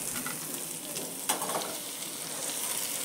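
Okra (bhindi) frying in a pan with onion and chilli gives a steady, close sizzle with a soft crackle throughout and one brief clink of a spoon partway through.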